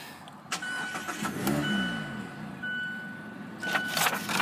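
A Mazda car's engine cranks and catches at close range inside a dealership, the start giving way to a steady idle with a few faint tones above it.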